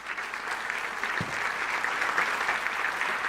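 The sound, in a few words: audience giving loud applause to welcome speaker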